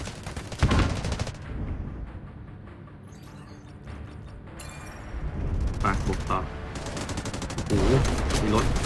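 Gunfire in the Delta Force Mobile shooter game, bursts of rapid automatic shots and blasts that come and go across the clip, loud and close, with a voice talking excitedly over parts of it.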